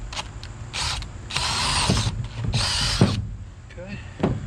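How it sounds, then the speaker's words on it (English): Power drill boring holes for threaded rods during a power catamaran build, in several whirring bursts of one to two seconds separated by brief pauses, close and fairly loud with creaking mechanical noise. "I'm just going to drill this."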